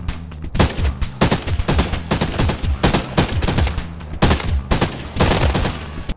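SMG fire in Arena Breakout Infinite comes in rapid, loud, close bursts separated by short pauses, with no talk over it.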